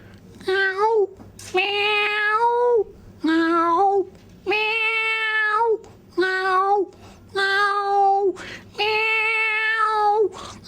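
A man imitates a cat with his voice, producing seven separate drawn-out meows with rising and falling pitch, loud and close with short gaps between.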